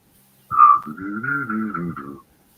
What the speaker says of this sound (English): can you whistle or hum at the same time?